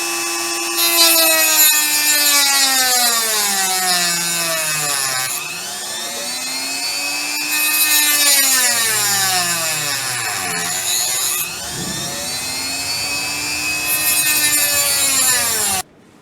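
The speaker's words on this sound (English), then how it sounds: "I'm going to use my rotary tool to make those cuts." A rotary tool cutting string notches into a banjo nut, its high whine rising and falling in pitch as the bit bites and eases off, a grinding rasp under it, close and loud throughout with no talk.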